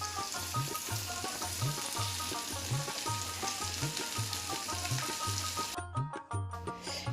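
Bottle gourd paste frying in a pan while being stirred continuously, giving a soft, even sizzle with a regular rhythm of stirring strokes that thins out near the end.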